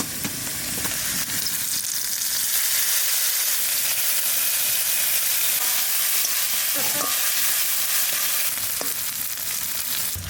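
Garlic and prawns frying in mustard oil in a pan, a loud steady sizzle and hiss that continues throughout, with a few faint stirring clinks and no speech.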